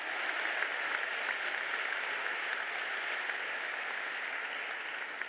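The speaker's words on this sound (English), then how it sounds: "can we give a round of applause to all the mothers in the room?" Sustained applause from the audience at a Wharton MBA graduation ceremony, honoring the mothers present; dense, steady clapping throughout with no speech over it.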